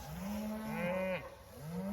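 Fat cattle on a January winter stockpile pasture give a couple of low, drawn-out moos close by, one sliding upward after a brief dip, with no talk over them.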